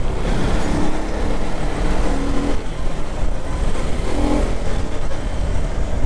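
A 2024 KTM Duke 250 motorcycle rides along a Bangalore street, its engine droning steadily and loudly under heavy wind rush, with slight rises in pitch as it accelerates.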